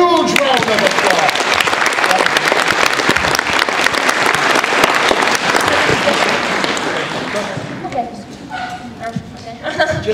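Loud, dense applause from a high school assembly audience at an anti-bullying stand-up show, sustained for about eight seconds before thinning out, with scattered cheers and voices as it fades.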